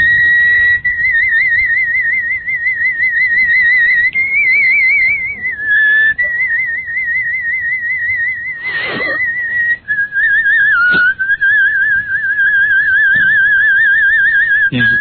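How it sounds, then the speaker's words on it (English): A person whistles a steady warbling tone almost continuously, with brief pauses and a couple of short noisy bursts in between. "He's whistling in already."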